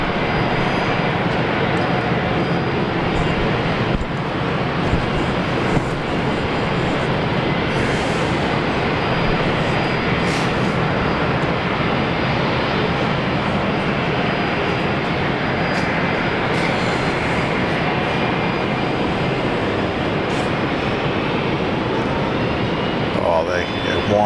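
Aircraft engines wind up at Brisbane International Airport, a loud continuous broadband roar that holds steady throughout, with faint talk partly masked underneath.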